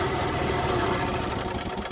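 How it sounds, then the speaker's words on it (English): A generator on a Holiday Rambler RV runs with a steady, rough mid-pitched engine drone and slight knocking vibration, close and constant throughout the short stretch, with no voices. "And the generator. So let's go ahead and run this real quick."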